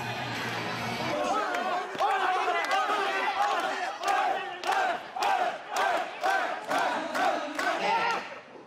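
Crowd at a student pro wrestling show in Japan roars and chants, rising in rhythmic loud surges of many voices shouting together, with an announcer-like voice also present.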